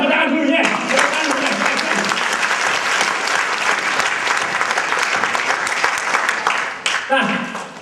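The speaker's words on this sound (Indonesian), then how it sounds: "Action, tepuk tangan dulu ya." Loud, sustained clapping from a seminar audience fills the room evenly, with a brief dip near the end before the applause swells again and a voice briefly cuts in at the start.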